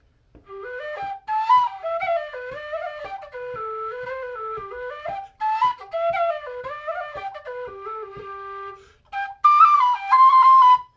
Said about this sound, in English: so solid whistles. It's a very unique tone.